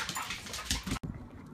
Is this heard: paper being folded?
no